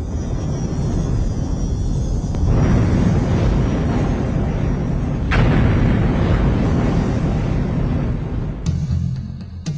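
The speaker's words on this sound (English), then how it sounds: "Magnificent mountains explode as a result of the volcanic pressure beneath them" A volcanic eruption explosion: loud, sustained rumbling roar with broad booming surges, a sharp blast around the midpoint and another near the end, with no talk.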